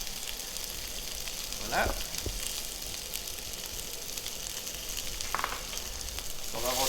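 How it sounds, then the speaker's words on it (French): Veal pieces and vegetables with tomato purée crackle steadily in a hot pan, a continuous low sizzle with occasional faint clinks of a utensil, while a voice briefly speaks over it. "On va rôtir avec le reste des légumes."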